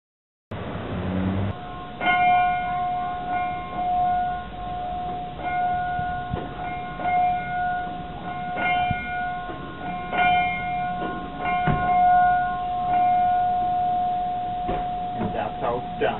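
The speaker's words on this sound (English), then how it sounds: "even ring the locomotive's bell" A steam-era locomotive's bell at the Railswest Railroad Museum in Council Bluffs, Iowa, is rung repeatedly in uneven strokes, each clang ringing on with a sustained tone, while people talk faintly in the background.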